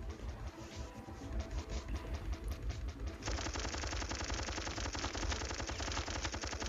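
Rapid gunfire rattles nonstop through a boss fight against two Hunters in the video game Phoenix. The fire is dense and mechanical, grows louder and denser partway through, and plays alone with no voices.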